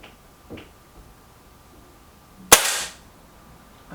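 An air rifle, a Milbro Guardian or a Stoeger XM1, fires a single sharp shot that cracks loud and close, then fades quickly into a quiet background with a couple of faint knocks before it.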